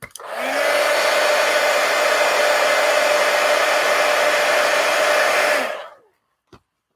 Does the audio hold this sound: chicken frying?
no